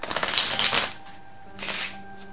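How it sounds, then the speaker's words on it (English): A borrowed deck of playing cards shuffled in quick riffling bursts, a dense flutter of snaps for about a second, then a short softer second riffle after a pause, close and fairly quiet. "You'll hand the deck out to be shuffled."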